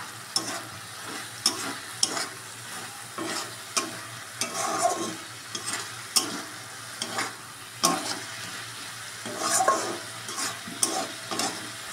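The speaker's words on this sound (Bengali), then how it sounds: "আগে এটাকে একটুখানি কষে নিই মশলাটা।" A spice paste for a bele fish curry is sautéed in a long-used, blackened wok, with a soft sizzle broken by repeated sharp scrapes and knocks of the stirring spoon at an uneven pace.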